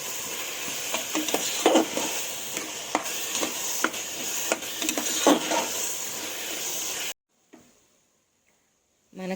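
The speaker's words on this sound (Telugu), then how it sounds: "వేసుకున్నాక ఒకసారి మొత్తం కలిపేసుకుందాం" Carrot halwa being stirred with food colouring in a pressure cooker, giving soft scraping and sizzling with scattered sharp clinks of spoon on metal for about seven seconds, then near silence.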